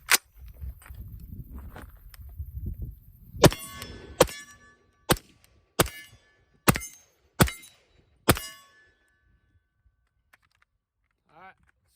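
A suppressed .300 BLK short-barreled rifle, the Witt Machine & Tool Dirty 30, fires supersonic rounds outdoors: about seven sharp cracks at a steady slow pace, preceded by faint handling noise.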